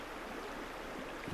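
A river current flowing in a steady, broad rush of water, continuous and fairly close, with no voices.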